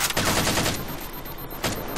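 Halo 4 gunfire rattles in a rapid burst of shots for the first moment, fades into combat ambience, then another short volley cracks near the end.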